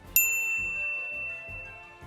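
A single bright notification bell ding strikes sharply at the start and rings out with a long, clean, fading shimmer over a quiet low background.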